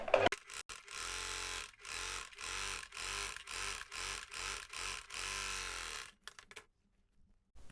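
A sewing machine stitching a straight seam on a fabric sleeve, running in a series of short, even whirring bursts separated by brief pauses, fairly quiet and close, before stopping.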